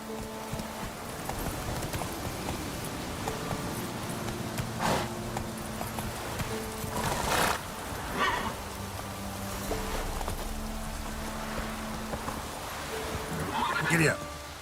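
Horse galloping in The Witcher 3, with hoofbeats and a brief whinny running under a voice urging the horse on and steady game ambience.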